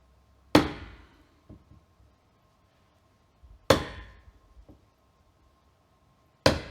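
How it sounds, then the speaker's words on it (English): Three sharp hammer blows drive a 1-inch chisel into a wooden door frame, each loud crack spaced a few seconds apart and followed by a quick decay and a few small knocks, with no talking. "Go ahead and take a 1-inch chisel, flat side to the outside."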